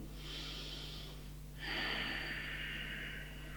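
Slow, audible breathing during a deep yoga lunge stretch: a long airy exhale, a brief pause, then a stronger breath, close to the microphone with no talking.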